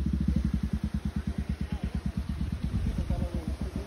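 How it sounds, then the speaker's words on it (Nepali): A motorcycle runs along the road below, its engine giving a steady, fast, rhythmic thumping that stays fairly strong and close for several seconds. "तल बाइक जान्छ"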